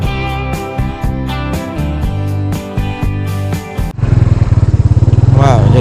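A motorcycle engine rumbles close and loud as it rides a rough, rocky road through a quiet tea plantation at night, steady at first and then a harsher pulsing throb; the ride is dominated by a music-like tonal layer.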